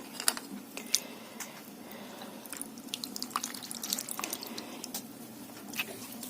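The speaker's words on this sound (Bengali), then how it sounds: "সয়াবিনটাকে ভালো করে জল পাল্টে পাল্টে তিনবার চারবার করে ধুয়ে নিচ্ছি আর ভালো করে নিগড়েও নিচ্ছি" Soya chunks are washed in water and squeezed by hand, giving close drips, splashes and wet squishing in an irregular rhythm, with no voice.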